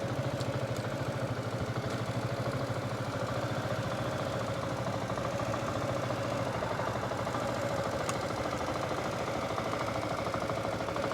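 A 2014 Yamaha Majesty 250 scooter engine idling close by, a quiet, steady pulsing hum with an even rhythmic clatter and no change in speed.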